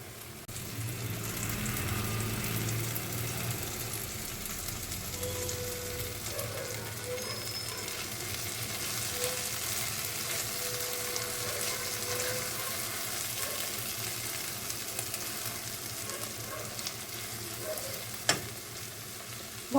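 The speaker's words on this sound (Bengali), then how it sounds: "মশলাটা অনেকটাই ভাজা ভাজা হয়ে এসছে," Spice masala for mutton curry frying in oil, heard as a soft, steady sizzle with occasional stirring scrapes, fairly quiet and close, ending with a sharp knock.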